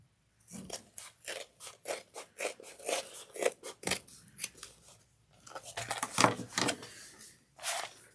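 Scissors snip through the fabric of a sewn train case, a quick run of crisp cuts, a brief pause, then another cluster of snips, close and clear.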